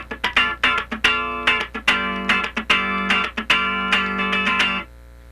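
Funk rhythm guitar part picks out short percussive strums and then longer held chords, with the left hand letting tones ring. Bursts in a syncopated pattern over about five seconds, fairly close and clean, ending in silence.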